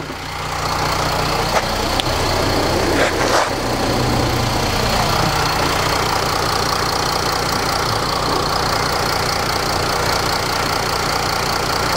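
A Mercedes 320 CDI V6 diesel engine idles steadily with a low, even rumble, close by, continuing for the whole stretch.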